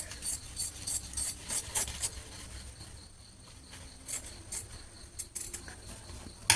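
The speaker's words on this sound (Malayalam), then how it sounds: "സെൻറ്റർ ഫോൾഡ് കൊടുത്തിട്ടൊന്ന് കട്ട് ചെയ്ത് രണ്ട് പീസാക്കി എടുക്കുന്നുണ്ട്" Scissors cut a center-folded back piece of fabric into two, giving a series of soft, quiet crisp snips in a loose rhythm with a pause midway, close and alone.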